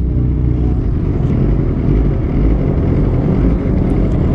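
Steady rumbling of a running Kawasaki ZX25R motorcycle engine with quiet stock exhaust, constant and fairly close, with a dense low drone and no speech over it.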